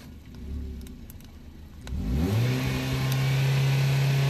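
Hyundai i30 engine idles low, then revs up sharply and holds a steady high drone with the exhaust blowing, close and loud outdoors on Uludağ, with no talk.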